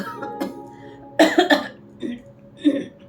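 Several sharp coughs in close succession, loud and near, followed by a couple of softer throat-clearing coughs.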